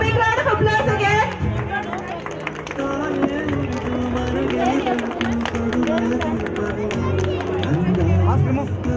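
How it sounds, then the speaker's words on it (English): Lively clapping and cheering from a crowd of children and adults at a school talent show and quiz prize-giving, mixed with loud chatter and music throughout. "a big round of applause again"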